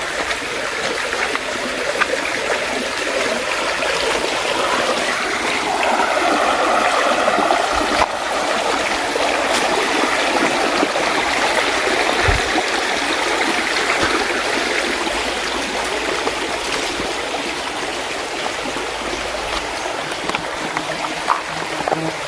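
A river in Bicol flows steadily with a constant broadband rush of water at close range. There is no talking, and a few faint knocks sound near the middle.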